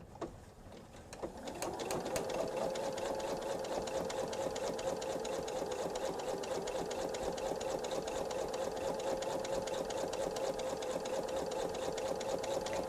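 A sewing machine with a walking foot stitching fabric at a standard 2.5 stitch length for a bench pillow, starting after a second of quiet and then running in a steady, fast, even hum close by.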